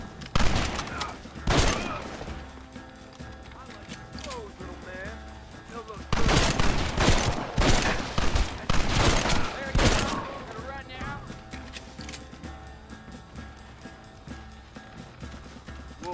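Repeated gunshots and rapid volleys ring out during a Red Dead Redemption shootout, mixed with galloping hooves and shouting voices, the firing heaviest in clustered bursts.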